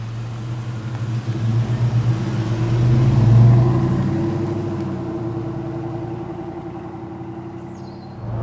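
An Auburn Speedster vintage car engine runs with a steady low rumble, swelling louder midway and then easing back down, with no voices.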